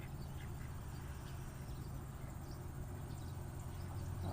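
Ducks roam a neatly trimmed garden grounds beside a wishing well, their quacks scattered and moderately distant over steady outdoor background noise, with no talking.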